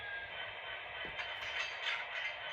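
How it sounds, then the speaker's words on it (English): MTH SD70ACE model locomotive's onboard sound system plays its coupler-unlocking effect: a steady, fairly quiet mechanical rumble with a single short clank partway through. No one speaks. "That will unlock the coupler. It'll go through its little sound exchange there."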